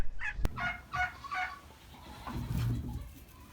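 Farm chickens cluck in a few short, throaty bursts nearby in winter, with a single sharp click early on and quiet background rustling afterward.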